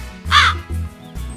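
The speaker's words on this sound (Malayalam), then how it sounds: "ഒരു കാക്ക അതുവഴി വന്നത്" A crow in a Malayalam kids' cartoon gives one loud, harsh caw up close, followed by low tones.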